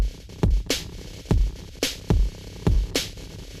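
Sonicware Texture Lab granular effect with the blend turned mostly toward the dry signal: a repeating pattern of punchy low thumps and bright hissy bursts, roughly every half second, with a soft grainy wash sitting underneath.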